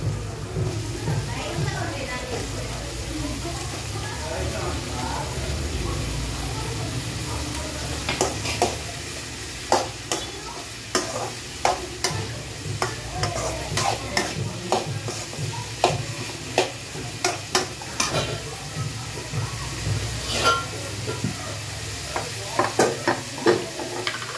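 Cleaned broccoli stir-frying in a pan, a continuous sizzle with frequent sharp clacks of a utensil scraping and tossing, getting busier and more rhythmic toward the end, heard up close with no voice over it.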